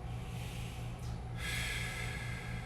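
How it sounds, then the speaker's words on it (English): Deep breath drawn during a stretching exercise for the calf, hamstring and low back: a single long, breathy exhale or inhale swells partway through and holds steadily above a constant low hum, with no talking. "breathe out, breathe in, and then breathe out again."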